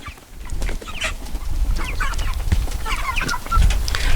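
A chicken clucks repeatedly on a farm, with close, busy bursts of short calls over a low rumble of background noise and no talk.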